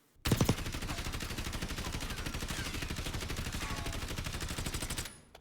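Rapid automatic rifle fire in Call of Duty Warzone, one continuous burst of evenly spaced shots lasting about five seconds, loud and close, starting and stopping abruptly.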